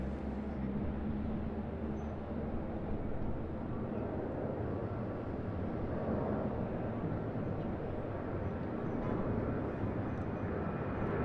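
A Regional Express Boeing 737-800 jet rumbles at Sydney Airport, a steady broad roar that holds evenly for the whole stretch at moderate loudness, with no talk over it.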